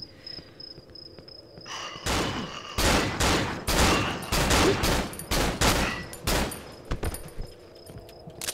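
Gunfire in the horror video game Cry of Fear: a rapid, loud burst of close shots in uneven clusters over a few seconds, trailing into sparser bangs, with no talk.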